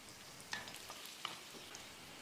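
Soft, steady sizzling of dried red chillies frying in hot coconut oil, with a few small crackles and pops.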